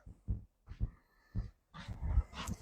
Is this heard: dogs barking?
yes